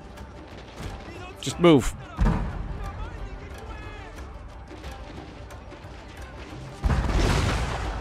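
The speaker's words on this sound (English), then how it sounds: "Did we just fire those cannons directly into these guys?" Cannon fire in a Total War: Shogun 2 battle: a sharp heavy boom near the two-second mark, then a loud rumbling burst of fire late in the clip, under ongoing battle noise and a brief spoken line.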